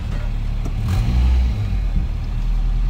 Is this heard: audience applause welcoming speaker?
no